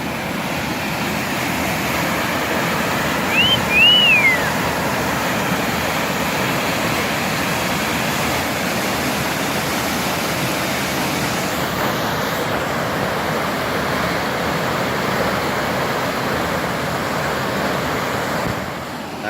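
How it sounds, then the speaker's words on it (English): Steady rushing water of East Canyon Creek in the woods, a continuous broad wash, with a brief high chirp near the start. "I believe that's East Canyon Creek."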